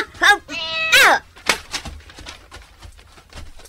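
A cat gives two or three clear, drawn-out meows close by, followed by quieter clattering and voices talking in a household scene from a radio-style drama.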